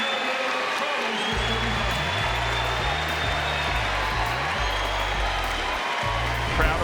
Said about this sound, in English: Crowd approves.